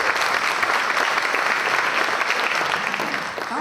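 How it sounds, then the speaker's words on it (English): Loud, sustained applause from a sizable crowd, dense clapping that holds steady and begins to fade near the end. "Let's give them a round of applause."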